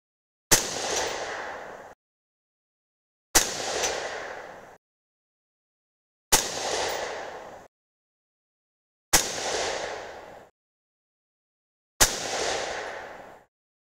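.223 Remington rifle firing 75-grain Hornady BTHP handloads: five loud, sharp shots spaced about three seconds apart, each followed by a short decaying echo, with silence between and no talking.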